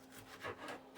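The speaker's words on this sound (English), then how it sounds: "Let's slice this up." A knife slicing through firm green plantain, giving a few close, dry scraping cuts in quick succession with no voice.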